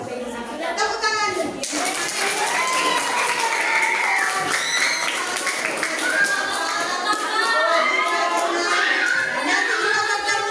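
Children in a classroom clap together at the end of a lesson, a busy burst of clapping mixed with young voices and chatter, sustained and fairly loud throughout.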